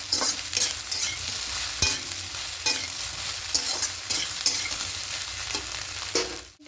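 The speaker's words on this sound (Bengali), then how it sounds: "দিয়ে খুব ভালো করে নাড়াচাড়া করে একটু সবিনগুলোকে ভেজে নেব" Soaked soybean chunks frying in a pan with potatoes, a continuous loud sizzle broken by repeated scraping strokes of a spatula as the chunks are stirred, the rhythm fairly regular throughout.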